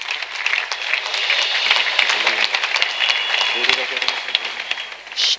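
A church congregation claps and applauds during a French-English evangelical praise and thanksgiving festival, a dense, sustained wash of hand claps with voices and shouts mixed in, close and lively.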